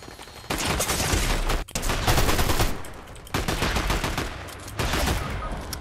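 Sustained bursts of submachine gun fire from a gold Tommy gun in a video game, loud and close, with long continuous volleys broken by brief gaps and no talking.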